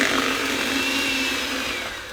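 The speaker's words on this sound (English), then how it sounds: "I'm going to use a hand mixer to mix or beat the potatoes into a mash" Electric hand mixer beating fork-tender cooked potatoes into mash, a continuous whirring motor drone with a slight scraping texture, close and steady, fading a little toward the end.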